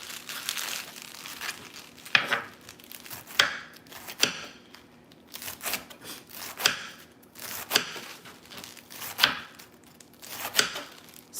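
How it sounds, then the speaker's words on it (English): Knife chopping collard greens on a cutting board in a home kitchen, a run of crisp, irregular chops with leafy crunch, close and fairly loud, with no talking. "I'm chopping my collard greens."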